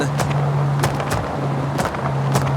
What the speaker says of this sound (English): anti-lag on road cars shouldn't be popping like this